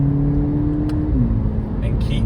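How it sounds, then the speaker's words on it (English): A Volkswagen Polo GTI with a 2-litre engine accelerates in sport mode, a steady droning engine tone that shifts pitch partway through, heard under someone talking. "I've got the car in sport mode at the minute, and as I just said, because it's a GTI, it's a sports car"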